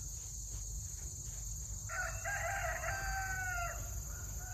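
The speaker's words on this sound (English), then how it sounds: "all the roosters are alarming, making everybody get up in the morning." Roosters crowing in the early morning, one long harmonic crow rising and holding for about two seconds, fairly distant over steady outdoor hum and background noise, with no talking.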